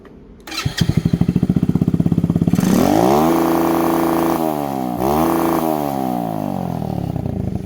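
A Grom clone motorcycle engine cranks with rapid chugging pulses, catches, and revs up high, its buzzing pitch rising and dipping through several throttle blips at close range with no one speaking.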